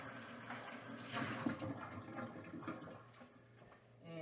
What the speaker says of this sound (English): I'm going to empty the water back into my cup. Let me rinse my cup out and get the blue out of there.